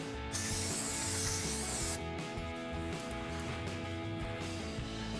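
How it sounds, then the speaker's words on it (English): A sharp hiss of brake cleaner spray lasts under two seconds, then gives way to a softer rubbing as a microfiber towel wipes a brake rotor on a Mustang GT, over a steady background hum. "We'll spray some brake clean on and then wipe it down."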